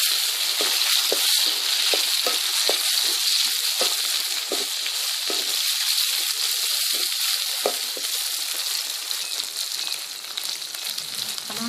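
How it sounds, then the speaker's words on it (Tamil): Tomatoes sautéing with raw banana in a pan give a loud, steady sizzle and hiss throughout, with soft stirring knocks underneath and no talk. "அதோட தக்காளி சேர்த்து நல்லா வதக்கிக்கலாம்."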